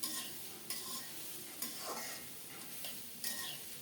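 Vegetables including drumsticks and snake gourd are stirred and sautéed in a pan, giving a close, steady sizzle. Several scraping stirs of a spoon recur at regular intervals over the frying.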